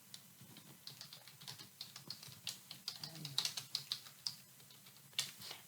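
Quiet clicking of a computer keyboard while a name is entered, irregular bursts of keystrokes heard up close and soft, with a voice speaking faintly in the background.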